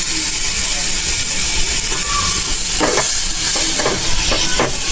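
Garlic sizzling and frying in a pan for a home-style paneer masala, a steady close hiss of hot oil with a few scraping stir sounds, no talk over it.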